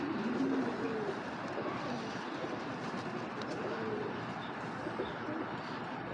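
Black racer pigeons cooing, a low soft cooing murmur running steadily through a dense, noisy backdrop of steady ambient hum, with no voices present.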